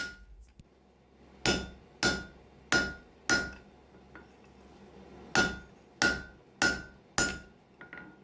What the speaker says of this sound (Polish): robimy to po prostu równomiernie po całej grubości czołem młotka, czyli tą płaską częścią młotka